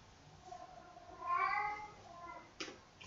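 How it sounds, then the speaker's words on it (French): A house cat gives one drawn-out, plaintive meow nearby indoors against quiet room hiss, followed by a brief faint chirp. "c'est ma chatte qui miaule"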